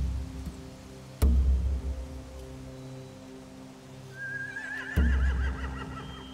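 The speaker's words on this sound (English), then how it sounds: "Scare the horses, too." Horses whinny loudly twice in The Walking Dead: The Final Season video game, over a steady low ambient hum and with no speech.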